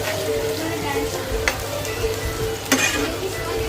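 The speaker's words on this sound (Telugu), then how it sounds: "స్టవ్ పై ఒక లాయి పెట్టుకొని కొద్దిగా ఆయిల్ వేసుకొని ఈ ముక్కలు అనేవి ఫ్రై చేసుకోవాలి" Pieces of amaranth leaf fry in a little oil in a pan, giving a steady close sizzle with a few sharp stirring clanks, over a low constant hum.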